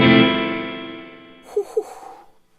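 Cathedral reverb on a Supro Airwave guitar: one ringing strummed chord that decays slowly into a long wash of echo, with a couple of faint picked notes near the end. The tone is clean and moderately loud, with no talking.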